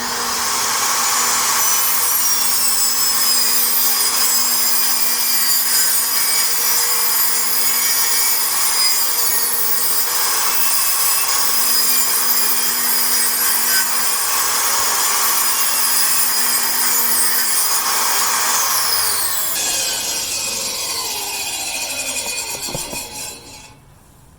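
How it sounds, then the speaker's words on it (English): Table saw ripping a long sheet of 3/4 inch plywood in a garage workshop: a loud, steady whine of blade cutting wood holds for about twenty seconds, then spins down as the cut finishes. "I'm ripping a piece of 3/4 inch plywood, see if the table saw can actually rip it"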